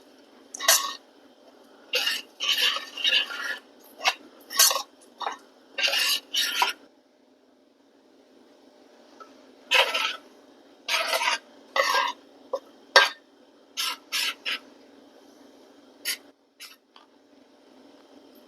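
A spoon stirs melting sugar in a pot for dry-method caramel sauce, making clusters of quick scraping strokes separated by pauses, close and fairly loud.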